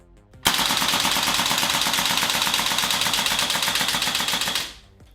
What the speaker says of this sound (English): You can flip it onto auto and send a few bursts downrange